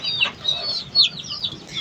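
A hen and her chicks cluck in a coop where some chicks have been falling sick, with short, bright clucks and cheeps repeating close by at an uneven pace and no talk over them.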